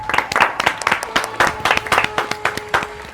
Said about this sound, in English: A round of applause to Strathmore.